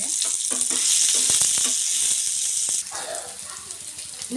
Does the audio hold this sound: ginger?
yes